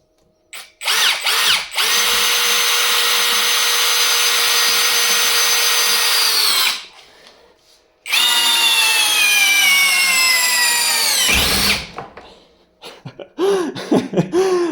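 A LEADER compact impact screwdriver on a 6 Ah battery spins freely in two long, loud whining bursts of several seconds each, close up, with brief pauses and a short rev at the end.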